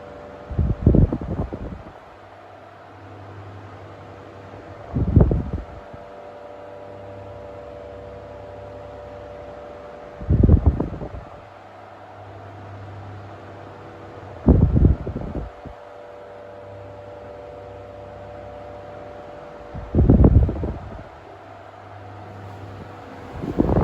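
A 1970s or 1980s Amcor 12-inch oscillating desk fan runs with a steady low motor hum and whir, interrupted roughly every five seconds by louder whooshing bursts as the head sweeps past.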